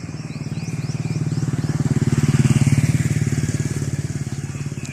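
A motorcycle engine runs at a steady, pulsing putter while riding along, loud and close, with a slight swell in the middle and constant drive for the whole stretch, no talk over it.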